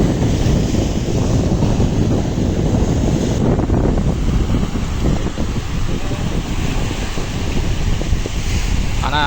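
Sea waves and strong wind at a Vadamarachchi beach in Jaffna, a steady loud rush of surf with wind buffeting the microphone the whole time.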